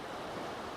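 Sea waves lap on a beach among the statues of Anthony Gormley's Another Place, a faint, continuous hiss of surf with light wind and no talk.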